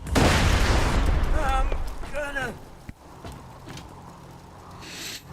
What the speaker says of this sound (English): Oh, there goes a grenade, so get out of the way.